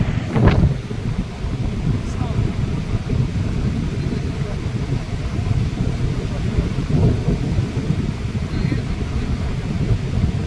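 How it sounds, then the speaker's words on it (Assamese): Wind blows outdoors at a sunrise viewpoint, buffeting the microphone with a steady low rumble for the whole stretch, with a brief thump near the start. "ধুনীয়া বতাহ দি আছে"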